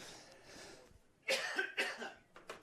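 A man coughs repeatedly during a live karting commentary broadcast at Dunkeswell: a muffled, low stretch first, then a burst of sharp, close coughs.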